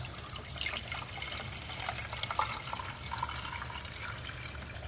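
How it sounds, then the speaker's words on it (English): Warm and cold water is poured into a box, heard as a continuous trickling, splashing flow at moderate level with a low background hum and no speech. "I'm going to take some warm water and some cold water, and I'm going to pour it into this special box."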